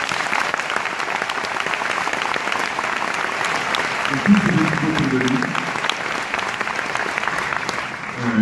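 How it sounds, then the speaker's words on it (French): Steady, dense applause from a large audience at a French industry event, sustained for several seconds while a speaker talks over it through a microphone. "qu'on peut applaudir s'il vous plaît"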